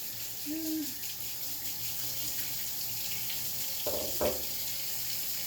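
Water runs steadily from a kitchen tap, a constant hiss with a couple of faint clinks partway through; no talking.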